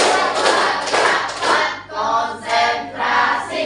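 Children clapping a rhythmic 'tepuk konsentrasi' concentration clap in a classroom, several bursts of fast group claps with brief pauses between, close and fairly loud.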